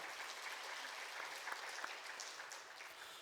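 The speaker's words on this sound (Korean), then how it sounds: "함께 영광의 박수 올리도록 하겠습니다." A church congregation at a Friday night healing service applauds in a soft, continuous patter of many hands, fairly distant and even throughout, with no voices standing out.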